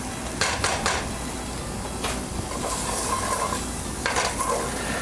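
Tomato paste stirred and browning in a pan for puttanesca, a steady sizzle broken by scraping utensil strokes against the pan, close and fairly loud.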